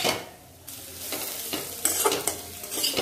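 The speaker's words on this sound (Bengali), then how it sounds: "পোস্তটাকে দিয়ে এবার ভালো মতো নাড়াচাড়া করে মিশিয়ে নেব" Potatoes tossed with poppy seeds stir-fry in a pan, a steady close sizzle broken by repeated scraping strokes of a spoon stirring through the mix, with no voices.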